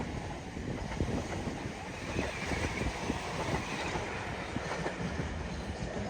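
Class 377 and Class 444 electric trains passing at Clapham Junction, a steady broadband rumble and rail roar at moderate level that holds throughout without a break, no voices.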